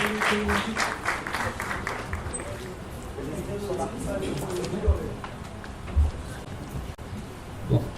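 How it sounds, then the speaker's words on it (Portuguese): An audience claps for an environmental university committee at a sustainability event, a dense wash of applause that thins out over several seconds while a voice speaks over it. "Com a salva de palmas de todos vocês."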